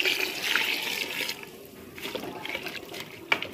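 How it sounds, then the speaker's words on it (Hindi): Water poured into a pot of beef liver curry with onion, tomato, spices, chillies and garlic-ginger paste, a soft steady trickle and splash heard close up at low volume. "पानी डाल के"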